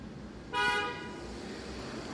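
A car horn blares once in a short, bright honk lasting about half a second, rising sharply over low traffic rumble that continues after it stops.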